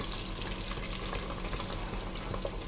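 Capsicum and onion fry in hot oil for kadai paneer, a dense, steady hiss of sizzling heard close up and fairly loud throughout. No one speaks.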